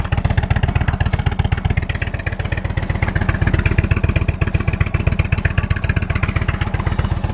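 An Indian Springfield motorcycle engine with stock dual exhausts idles close by with a deep, thumping exhaust pulse, steady and loud with a rattling edge.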